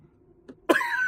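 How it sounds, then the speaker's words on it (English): A single sharp, loud cough bursts out after a brief quiet pause and a soft throat sound, close to the microphone indoors. "This rain is making me cough."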